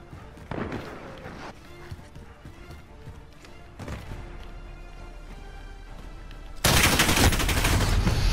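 Bursts of rapid gunfire in Call of Duty Modern Warfare on the Piccadilly map, several sharp volleys with short gaps, ending in a loud sustained burst, with faint game ambience between shots.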